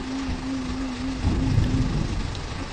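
Rain pours steadily in the horror video game Sundel Bolong, with a low thunder rumble swelling midway and a faint steady hum underneath.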